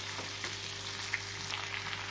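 Vallarai greens fry in a pan with a constant, even sizzle, with faint stirring scrapes under the crackle and no voices.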